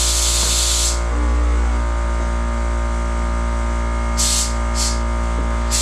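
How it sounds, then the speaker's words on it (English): An aftermarket air suspension compressor on a Genesis car runs loud and close, a steady droning hum with a hiss layered over it. Brief bursts of brighter hissing air cut in and out. "That compressor's been on for a minute"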